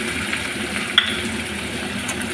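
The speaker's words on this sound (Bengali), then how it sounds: "পেঁয়াজটা ভালো করে ভেজে নেব" Chopped onions frying in a pan with garlic for a Bengali mutton curry, giving a steady close sizzle with one brief clink partway through.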